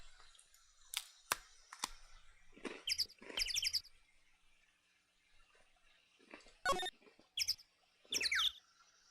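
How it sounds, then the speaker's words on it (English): Chirping birds in the Phoenix Wright: Ace Attorney video game, a series of short, bright tweets and trills in scattered bursts, fairly soft against a quiet background. "The birds?"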